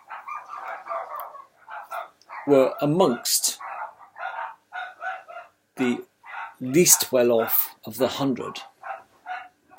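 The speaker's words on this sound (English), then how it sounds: "Excuse my dogs." Dogs bark indoors in a few sharp, loud bursts that cut across a man's steady speech, then fade as he keeps talking.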